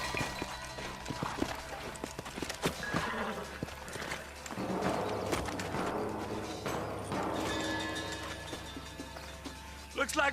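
In the Western video game Red Dead Redemption, horse hooves clip-clop at a slow pace beneath game music, ambience and talk.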